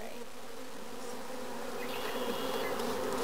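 Honey bees buzz steadily around an opened hive of newly installed nucs, a dense, close, continuous drone with no talk.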